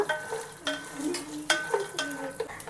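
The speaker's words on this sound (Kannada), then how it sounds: "ಒಂದು ಹದಕ್ಕೆ ಕಡಲೆ ಬೀಜ ನೀಟಾಗಿ ಹುರಿಬೇಕು" Peanuts roasting in a pan, with dry scraping stirs and light rattling at a steady pace, fairly quiet and close, no talk.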